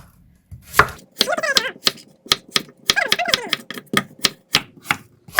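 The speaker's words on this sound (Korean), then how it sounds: "이 무는요, 반듯하게 써지 말고 이렇게 살짝 이렇게 어슬어슬하게 좀, 좀 얇게 얇게 이렇게 좀 썰어줘 보세요." A knife slices radish thinly on a cutting board for water kimchi, giving a run of sharp, irregular chops close by, with someone talking between and over the cuts.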